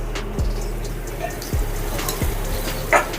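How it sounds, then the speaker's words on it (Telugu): Onions sizzling in hot oil while a Telugu-style shorva is cooked at home, a steady close frying hiss broken by a few soft low knocks. "ఆయిల్ హీట్ ఎక్కిన తర్వాత మన ఉల్లిపాయలని ఇందులో వేసుకొని"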